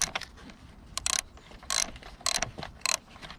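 Ratchet clicks in several short bursts as a 16mm bolt is loosened during timing belt work on a Peugeot 407 2.0 HDi, close and fairly quiet, with brief pauses between strokes.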